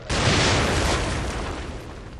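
A grenade blast in The Evil Within, a sudden loud explosion with a broad rumbling roar that holds and then slowly fades over a couple of seconds, with no voices.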